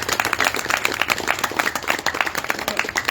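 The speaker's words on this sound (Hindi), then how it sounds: "तो उनका स्वागत करें तालियां बजाकर." An audience claps at a daily yoga practice gathering in Kanjurmarg, Mumbai, welcoming a member; steady, fairly loud applause with many overlapping hand claps runs throughout.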